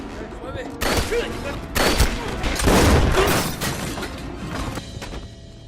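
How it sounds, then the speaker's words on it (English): Gunfire in an action-film shootout between detectives and a gang, heard as a loud fusillade of shots and crashing impacts over several seconds, with shouted voices mixed in. "After the shootout ends"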